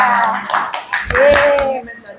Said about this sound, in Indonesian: Kita kasih tepuk tangan, aplaus yang meriah untuk Anissa.